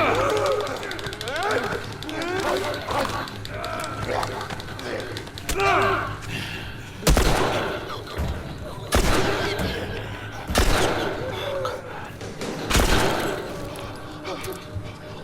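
Gunfire in The Last of Us Part II: several loud, sharp gunshots at irregular intervals over game music, ambient noise and a talking voice.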